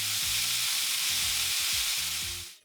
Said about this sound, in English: Then we need to let it sear.